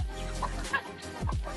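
Native free-range hens (inahin) and chicks on a backyard flock clucking in short bursts nearby, several soft calls over a steady outdoor background.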